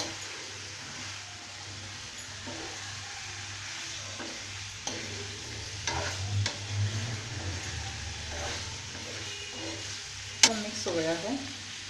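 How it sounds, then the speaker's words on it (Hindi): Boiled pasta being stirred in a hot sizzling pan, a soft continuous fry with occasional utensil scrapes and a sharp clink near the end. "इसमें अब हम बॉईल किए हुए पास्ता डाल देंगे। और इनको अच्छे से मिक्स कर देंगे।"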